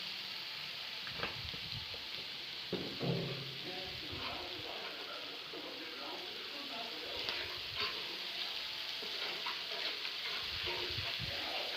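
Turmeric, chili and oil fry in a pan for coral fish, a continuous soft sizzle with scraping stirs and a few knocks, while people talk quietly over it.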